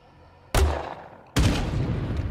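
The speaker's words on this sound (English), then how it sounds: "Another grenade right there." A grenade launcher fires and its rounds burst in State of Decay 2: two sharp, loud booms about a second apart, each trailing off in a rumbling decay.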